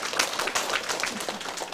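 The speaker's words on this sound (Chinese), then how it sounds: "好， 拍手。" An audience at a Taiwanese legal seminar claps on request, a brief spatter of many hands applauding together, fairly close and steady.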